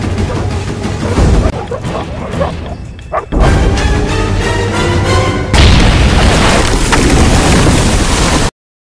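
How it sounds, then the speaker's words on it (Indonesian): In a Rambo action film, a missile trap detonates on pursuing Burmese soldiers, heard as heavy booming blasts and rumbling roars in several shifting bursts with dense movie sound effects, loud and close before cutting to silence. "tentara Burma yang sedang mengejar Rambo ternyata masuk dalam jebakan Rambo, dan meledakkan rudal itu bersama mereka"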